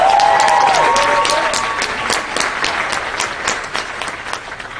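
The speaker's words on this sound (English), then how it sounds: "Let's give him a round of applause." A conference audience claps steadily for a speaker at a national educational event, loud sustained applause with a brief tonal sound near the start, slowly thinning toward the end.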